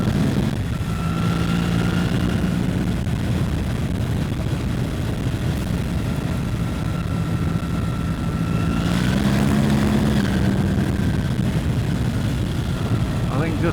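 A 2024 BMW R1300 GS Trophy motorcycle being ridden, with a continuous engine drone and steady wind rush from the rider's position, with shifting engine tones partway through. A rider talks over it.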